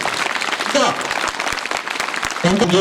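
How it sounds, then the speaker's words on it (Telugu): An audience claps together at a school's International Meditation Day celebration at ZPHS Bomraspet, with a few distinct claps under the noise and a person speaking over the applause near the end. "సో ఒకసారి అందరం గట్టిగా చప్పట్లు కొడతాం మైత్రి సేవా ఫౌండేషన్."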